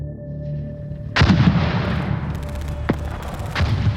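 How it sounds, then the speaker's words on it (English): Artillery fire shaking the streets above a bunker, with a heavy boom, then two more blasts and a rumbling tail over a low drone, loud and without voices. "Artillery shook the streets above the bunker."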